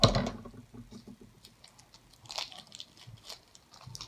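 A sharp snip followed by crisp crunching and rustling as packaging is cut and handled close up, in short irregular bursts.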